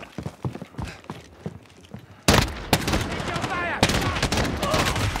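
Gunfire from the PC shooter Call of Duty Modern Warfare: after quiet opening sounds, loud sharp shots break out midway, a couple of distinct cracks followed by sustained dense firing to the end.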